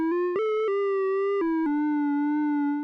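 A bright ElectraX synth lead plays a short melody of sustained notes, a slow two-hertz flutter slightly detuning the pitch like worn tape; a dry, flat tone, loud and alone, with clean note changes.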